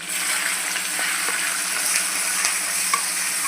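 Tomatoes hit hot oil in a tempering of green chillies for a simple potato and cabbage sabji, giving a loud, continuous close-up sizzle with faint stirring scrapes throughout.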